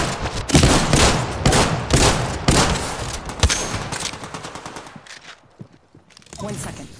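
Rapid automatic gunfire from the video game Apex Legends, loud and dense with sharp repeated bursts for several seconds, then thinning to scattered shots and a lull before firing picks up again, with talk mixed in.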